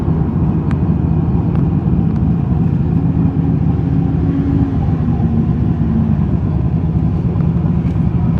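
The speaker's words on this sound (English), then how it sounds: "That giant turbo just singing." A widebody RX8 with a swapped LS engine, turbo and nitrous accelerates hard, its giant turbo adding a faint rising whine over a loud, steady engine drone heard from inside the car.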